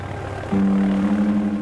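A Piper Cherokee light airplane takes off from runway 5, a low engine drone that swells suddenly into a louder steady hum with a strong tonal whine.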